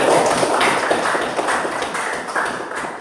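A classroom group clapping hands together in a short burst of applause, close and fairly loud, with overlapping claps forming a quick uneven patter that fades slightly toward the end.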